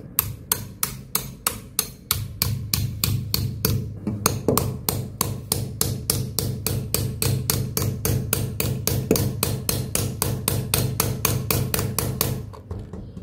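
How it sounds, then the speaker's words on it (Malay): A manual nail gun drives nails into plastic wire casing. It hammers out a long, steady run of sharp, close, loud strikes at an even quick rhythm, with one brief pause early on and no voices. "demo untuk paku casing menggunakan manual nail gun"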